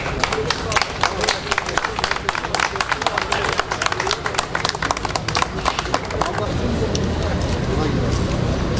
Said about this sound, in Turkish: alkışlarınızı görelim, biraz hareketlendirelim